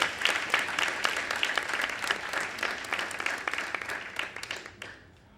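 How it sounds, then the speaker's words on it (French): An audience at a graduation gala applauds secondary school graduates, sustained dense clapping that holds steady for about five seconds before tapering off. "Je vous invite à applaudir les diplômés secondaires 2016."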